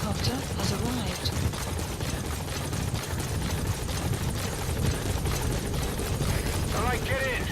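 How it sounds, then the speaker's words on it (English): A support helicopter in Metal Gear Solid V hovers close by, its rotor making a constant loud, dense thrumming roar that fills the whole stretch, with a voice speaking over it. "Support helicopter has arrived."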